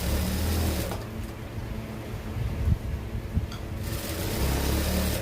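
A sewing machine stitches fabric piping in a close, steady whirring run that eases off briefly in the middle before picking back up to full speed.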